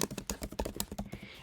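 A name being typed on a computer keyboard: a quick run of soft, uneven key clicks, close and fairly quiet, with no talking.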